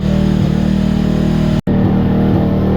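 A Honda TRX450R quad fitted with a new exhaust pipe revs loudly and steadily up close, with one abrupt brief cutout before the engine roar resumes.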